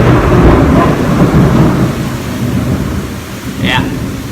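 Steady heavy rain pours during a Florida thunderstorm, with low rumbling thunder rolling underneath close by and a brief higher chirp near the end.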